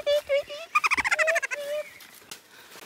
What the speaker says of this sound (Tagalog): Sarap naman pakinggan ng mga ano. Pababa pa. Yung mga kanta ng ibon.